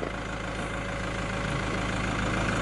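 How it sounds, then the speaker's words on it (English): A Toyota Land Cruiser Invincible with a 3.0 litre D-4D diesel engine idles steadily, a loud, even low rumble with a constant chug that runs throughout without any talk. "On an engine like this, it's uh, just about running."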